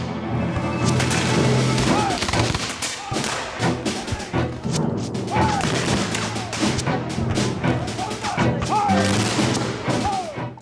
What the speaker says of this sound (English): We can hear cannons in the distance.